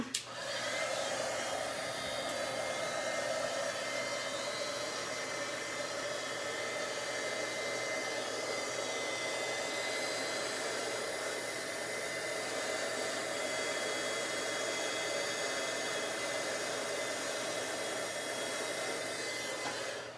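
An embossing heat tool blows hot air steadily as it warms up before melting heat-and-stick powder for gilding, a continuous loud whooshing roar that holds unbroken from start to finish with no voices.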